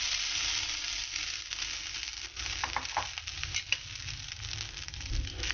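Cooked brown rice tipped into a hot pan sizzles steadily and close up, with faint scraping and stirring crackles on top of the fry, and no voices.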